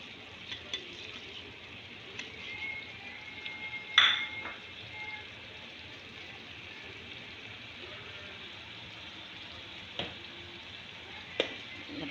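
Beef steak fries in a pan with a steady, soft sizzle throughout, broken by a few clinks and a brief sharper hiss near the middle.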